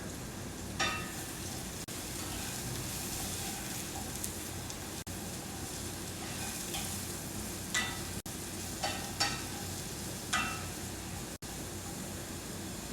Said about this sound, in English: let's give our mushrooms a little stir